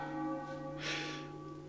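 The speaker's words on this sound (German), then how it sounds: "Wenn diese Glocke zum dritten Mal läutet" A bell in the video game Final Fantasy IX tolls once, a single swelling strike over sustained steady tones, moderately loud and alone without talk.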